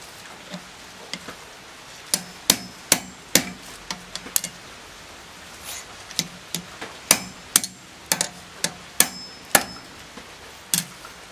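A hammer strikes a knife blade, knocking its upturned tip back down, in a series of sharp metallic blows with uneven spacing that grow more frequent over time, each ringing briefly. No one talks.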